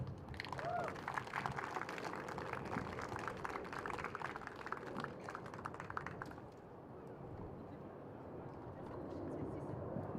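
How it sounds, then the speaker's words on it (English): Crowd applause after a wheelchair tennis match at the British Open in Roehampton, a dense rattle of clapping that carries for about six seconds under a commentator's voice before fading to quieter room tone. "A round of applause for both these players who kept fighting, and give it up for the crowd"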